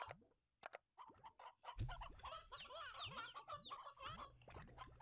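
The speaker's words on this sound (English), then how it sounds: "I might have to find some more of those chickens to put in." Chickens cluck in the Slime Rancher video game, a dense run of overlapping clucks and short calls. They start after a brief quiet opening and carry on close and steady to the end.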